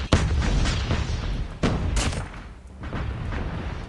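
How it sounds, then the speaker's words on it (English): Grenade explosions inside a building in Call of Duty Mobile battle royale, with heavy, booming blasts and a sharp burst near the middle over a dense, rumbling wash of game noise. "So there's a guy in this building, and I'm tossing 2 grenades."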